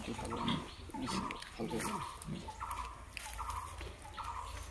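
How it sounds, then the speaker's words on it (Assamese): Pigs on a pig farm, with repeated low grunts and snorts in an irregular rhythm, fairly close, mixed with farm background noise. "ডাইৰেক্ট গাহৰি ফাৰ্মত আহি গলো দেই"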